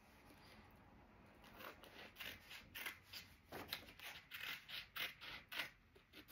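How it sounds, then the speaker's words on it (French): Scissors cutting off excess material, with quiet, close, repeated snips and rustling strokes that grow slightly more regular toward the end, faint and alone with no talking. "Je vais découper l'excédent."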